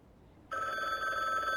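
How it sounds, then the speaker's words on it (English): A telephone bell starts ringing abruptly after a brief quiet moment, a steady loud continuous ring that carries on to the end. "Oh, someone's ringing us back."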